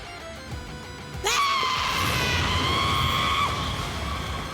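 A loud, high-pitched scream from a KingOhger episode bursts in suddenly and holds steady for several seconds over background music.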